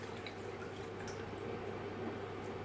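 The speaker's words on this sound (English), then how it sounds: "now I'm just going to empty the water out" Coconut water pouring out of a freshly cracked-open coconut, a soft steady trickle and drip of liquid with faint wet splashing, close and quiet, no voices.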